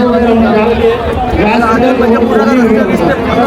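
A large, packed crowd waits for the Chinchpokli Chintamani arrival procession, a dense babble of many voices close around, with a nearer voice talking over the hubbub.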